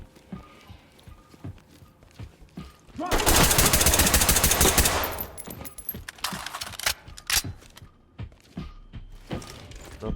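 Gunfire in the tactical shooter game Ready or Not: a dense, loud burst of automatic fire lasting about two seconds, then a string of sharp separate shots and clatter.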